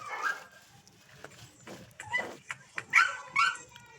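A dog barking close by in a few short, sharp yips and barks, spaced irregularly and getting stronger toward the end.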